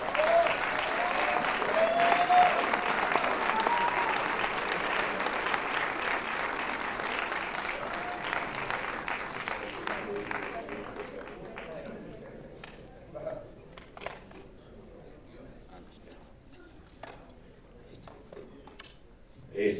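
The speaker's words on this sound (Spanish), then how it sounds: "Un aplauso por favor para ellos" Audience applause for a film cast at a movie presentation, dense clapping loud at first then thinning out into scattered claps over about twenty seconds.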